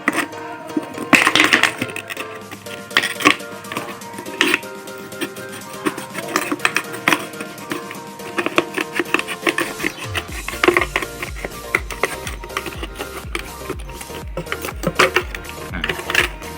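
Scissors snip through a plastic mineral water bottle, cutting the inner ridge of its wall, with repeated close crisp crackling cuts and crunches over a steady background hum.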